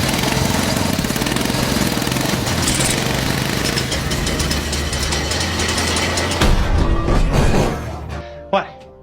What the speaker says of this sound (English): As gasoline slowly flowed in, Harley began to crank the shaft.